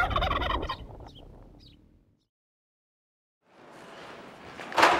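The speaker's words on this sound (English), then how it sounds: "All in all, they're pretty calm turkeys." A turkey gobbles loudly at the start, then fades to near silence before a rustling, breathy stretch ending in a sharp burst.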